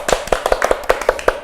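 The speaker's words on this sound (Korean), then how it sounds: "박수 한번 하겠습니다" A few people clap in a small indoor setting, quick close sharp claps in an uneven rhythm over about a second and a half, without talk.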